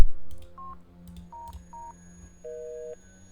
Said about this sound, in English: I can use the phone to call for help.